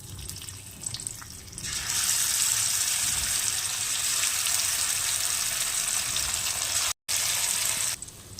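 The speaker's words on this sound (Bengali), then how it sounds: "এবার আমি তেলে ভেজে নেব ছেঁকে নেব তেলটা গরম হয়ে গেছে আমি একটা একটা করে দিয়ে দেব" Bitter gourd pakoras dropped one by one into hot oil set off a loud, steady broadband sizzle that bursts in after a quieter start and runs continuously, with a brief cut near the end.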